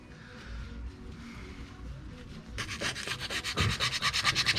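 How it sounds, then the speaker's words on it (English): Hand sanding of surface rust from a front brake part on a Mercedes ML320/ML430 (W163): after a low background hum, close rhythmic abrasive strokes start and grow louder and quicker, a steady back-and-forth scrubbing. "Be careful while sanding"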